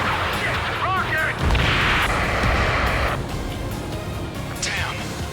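Missiles and rockets exploding in the flight combat game Ace Combat 7, with heavy continuous booms and crashes over a roaring, dense battle din and radio chatter.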